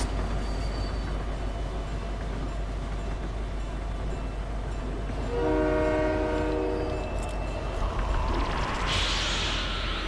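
Moving train in Fortnite, with a steady low rumble of rolling cars, a loud sustained horn blast midway and a sharp whoosh near the end, heard close without speech.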